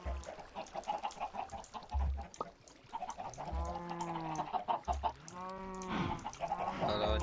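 A video game chicken clucks and squawks in a few drawn-out, rising calls over a busy, noisy game background, fairly faint and without speech.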